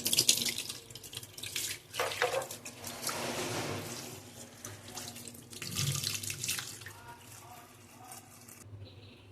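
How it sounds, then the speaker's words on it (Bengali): Tap water runs into a kitchen sink while bata fish full of roe are rinsed by hand, with splashing and gurgling that swell and fade before the flow stops abruptly near the end. "বাটা মাছটাও আমার ধোয়া হয়ে গেল"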